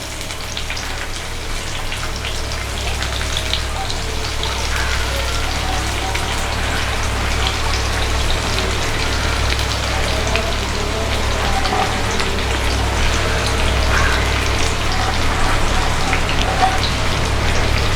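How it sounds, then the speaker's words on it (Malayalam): Onions frying in coconut oil in a pan for a fish biriyani, a dense, continuous sizzle and crackle that stays steady and close with no pauses. "സവാളയൊക്കെ നന്നായിട്ട് ഫ്രൈ ആയി വന്നിട്ടുണ്ട്."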